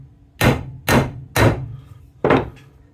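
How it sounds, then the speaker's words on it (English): Four sharp light hammer taps on a South Bend Model 9A lathe gearbox part during disassembly, close and distinct, spaced irregularly with quiet gaps between. "Give it a light tap on the small side."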